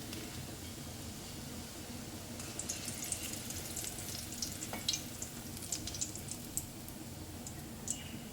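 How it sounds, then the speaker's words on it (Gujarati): Dahi vada dumplings frying in hot oil give off a steady, moderately loud sizzle dotted with sharp crackles and pops that grow busier partway through, with no voices. "તો આપણા વડા સરસ તળાઈ ગયા છે."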